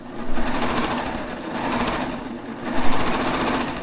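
A serger stitches gathered fabric for a top's bodice, its knife trimming basting stitches as it runs; a steady, close mechanical whir with rhythmic needle clatter that swells and eases in bursts.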